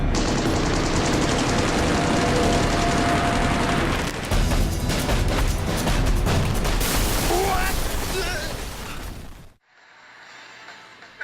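Sound effect of naval autocannons firing at an approaching torpedo boat in a battle scene: a loud, dense, continuous barrage of rapid shots and booms that cuts off suddenly near the end, leaving a quiet tail.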